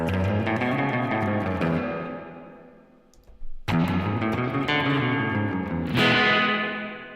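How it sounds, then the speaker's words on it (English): Electric guitar chords ring out with heavy reverb and a wash of effects, fading briefly to near silence before another strummed chord swells back. "That's your reverb."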